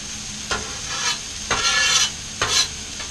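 Fish fries in a hot pan, with three rhythmic bursts of scraping and stirring over a constant sizzle, close and fairly loud, no voices.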